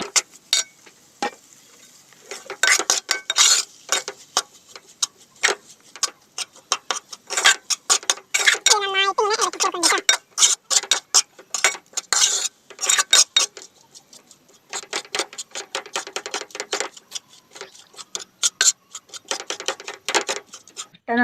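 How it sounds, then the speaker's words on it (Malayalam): Spatula scraping and tapping in a pan while scrambled egg is stirred into tomato rice, a dense run of quick clicks and scrapes in irregular bursts, close and fairly loud, with no talking. "എന്നിട്ട് എല്ലാം കൂടെ മിക്സ് ചെയ്ത് നന്നായിട്ട് ഇളക്കാം"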